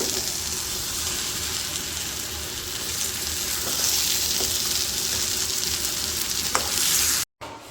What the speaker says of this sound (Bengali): মাংস আর আলুগুলো একসাথে দিয়ে দিই এখন। এই যে এগুলো এখন মশলার সাথে ভালো করে কষে নিই